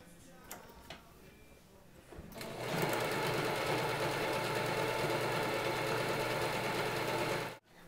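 A sewing machine starts up after a few faint clicks and stitches the sides of a hat in a steady, fast, whirring run of several seconds before stopping abruptly.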